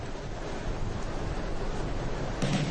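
Strong wind roars across the sea at Essaouira, Morocco, a steady broadband rush with surf churning underneath and gusts buffeting the microphone, with a louder blast near the end.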